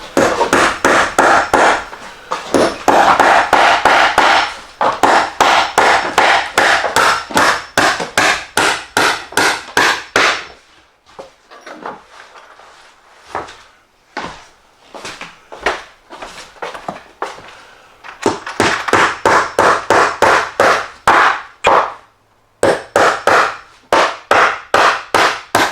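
Rapid, steady hammer blows on wood, loud and close, in long bursts with a brief quieter stretch of scattered taps midway.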